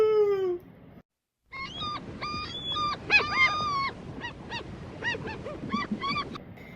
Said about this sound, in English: Oh, that sounds like a seagull.